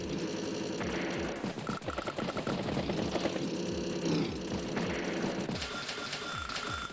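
Tank-on-tank strike in the turn-based war game Advance Wars by Web: sharp repeated cannon-like bursts and rattling impacts over layered game music, steady and moderately loud.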